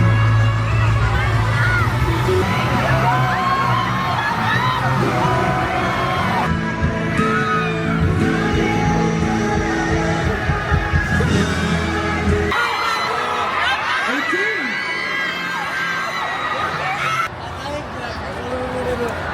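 Concert crowd in the Philippine Arena screaming and cheering loudly and continuously, a dense roar of many voices with music underneath, swelling and then thinning slightly toward the end.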